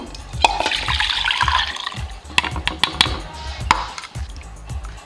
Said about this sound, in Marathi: ते आपण एका भांड्यात ओतून घेऊ